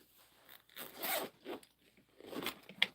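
The zipper on a hidden back pocket of a bag is drawn in several short, close, quiet zips, with small rubbing of fabric between pulls.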